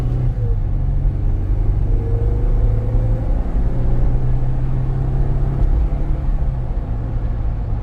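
A 2021 Jeep Wrangler Unlimited Rubicon with 75,240 miles cruising on a test drive, giving a steady, close low engine and road rumble with a faint rising whine, no voices.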